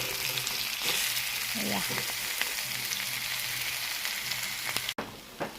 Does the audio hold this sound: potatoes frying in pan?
yes